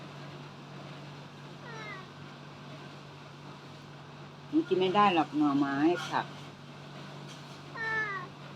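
A cat meows several times, one short cry and then a pair of longer, insistent meows, with a faint final mew, against a low steady hum, with a person speaking in between.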